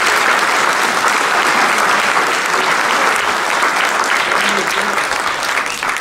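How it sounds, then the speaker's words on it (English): Sustained applause from a crowd at a high school athletic banquet, steady and dense for the whole stretch, fairly close and fading slightly at the end. "Please give these gentlemen a great round of applause."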